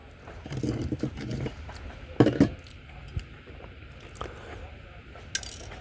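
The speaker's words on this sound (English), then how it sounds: "it makes a pretty good little sound when you drop it in the pan there" Small gold nuggets are dropped into a metal pan, giving a few short, close clinks and rattles among soft handling noise, with no talking.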